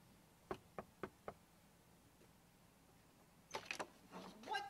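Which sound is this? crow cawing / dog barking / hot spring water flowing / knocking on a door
knocking on a door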